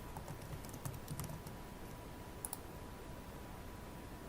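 Quiet keystrokes tap across a computer keyboard in a short burst of clicks, then pause, followed by a couple of slightly sharper taps, all faint and without any voice.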